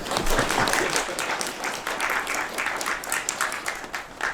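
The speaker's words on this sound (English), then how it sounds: "Please give him a round of applause." Audience applause at an iftar gathering as a guest speaker is welcomed, a lively crowd clapping with uneven, crackling bursts throughout, fairly close and sustained.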